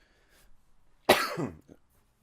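A single sharp cough breaks a near-silent background, loud and close, followed by a brief throaty rasp.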